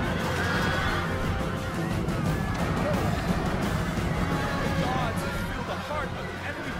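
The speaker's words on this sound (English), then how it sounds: "we successfully charged him, and shall do so with our more powerful horses" Horses whinny during a cavalry charge in the Rome: Total War video game, heard over a constant rumble of battle noise and crowd clamor, with a commentator talking throughout.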